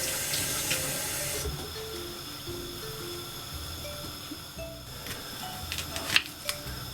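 Mackerel are rinsed under a running kitchen tap, giving a steady, fairly quiet water hiss with a few small splashes and clinks near the end.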